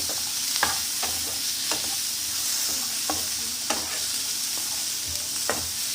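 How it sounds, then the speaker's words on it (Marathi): Tomatoes and cumin sautéing in a pan for matar paneer, a steady close sizzle with occasional sharp stirring scrapes and clicks. "आता यामध्ये 2 टोमॅटो घेतले, ते परतून घ्यायचे, छान स्मूथ होऊ द्यायचं त्याला"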